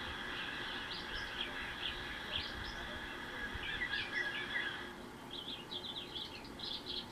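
Birds chirp and trill in short bursts over a steady background hiss, fairly faint and a little distant.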